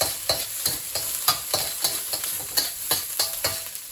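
Ginger, garlic and peppers stir-fried in a hot pan hiss and sizzle while a utensil scrapes and tosses them in quick, regular strokes, close and clear with no voices.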